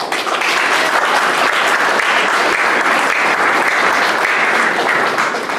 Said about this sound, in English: another round of applause for all tutors on campus